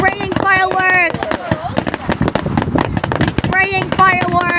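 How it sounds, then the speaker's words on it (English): Spraying fireworks at a Pounawea display send out a dense run of crackling pops and bangs between excited shouts and chatter from nearby onlookers. "They're spraying fireworks."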